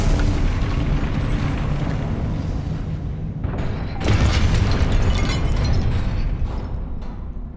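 Confringo blasting spell in Hogwarts Legacy, a dense, roaring rumble of game combat noise that surges into a louder burst midway and then trails off, with no one speaking.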